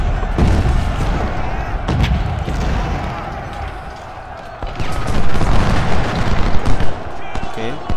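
Repeated booming cannon blasts and explosive thuds from the game Ultimate General: Civil War, Port Republic battle, irregular and loud, with a dense rumbling battle texture between hits.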